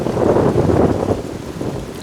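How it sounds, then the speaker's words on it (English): Steady, heavy wind buffeting the microphone, a loud low rumble that swells and eases throughout with no voices. "It's super windy, as you can tell and probably hear in the video."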